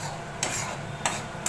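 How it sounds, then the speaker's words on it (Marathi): Roasted semolina is stirred in a pan with a spoon, giving a soft continuous scraping rustle broken by three sharp scrapes against the metal, close and moderately quiet. "चला रवा आपण हलवून घेऊया"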